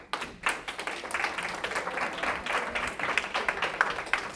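A keynote audience breaks into applause, a dense patter of many hands clapping at moderate volume from across the room, sustained for several seconds.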